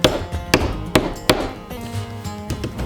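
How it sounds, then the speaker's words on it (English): A hammer taps a drywall surface several times, sharp knocks spaced unevenly with short pauses, close by. "simply take a hammer, make a nice little indentation"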